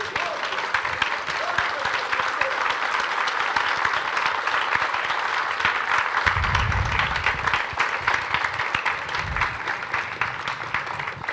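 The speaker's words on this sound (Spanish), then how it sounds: "Un aplauso santo al Señor." A church congregation gives a long burst of steady, dense applause for the Lord, with voices calling out beneath the clapping.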